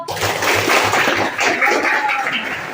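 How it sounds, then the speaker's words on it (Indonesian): Students in a classroom clap hard and loudly in a dense, continuous burst of applause filling the room. "tepuk tangannya kuat."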